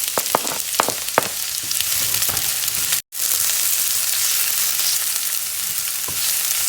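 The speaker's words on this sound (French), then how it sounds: "Je vais faire revenir mes oignons." Onions frying in hot oil in a home kitchen while a meat and chard pie is being made, giving a steady broadband sizzle with occasional crackles and pops that continues throughout and breaks off for an instant midway.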